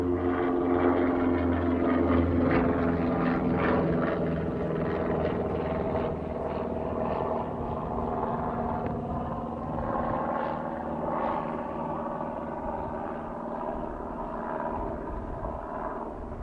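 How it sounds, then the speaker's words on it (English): A light aircraft takes off from the Nelson Aero Club, its propeller engine droning steadily with a buzzing, tonal hum at moderate distance that eases slightly over time, with no voices. "That's Tizzy taking off from the Aero Club."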